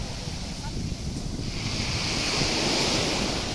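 Sea waves rolling onto the shore in Antalya, Turkey, a steady roaring surf with heavy wind buffeting the microphone, growing slightly louder partway through, with no voices.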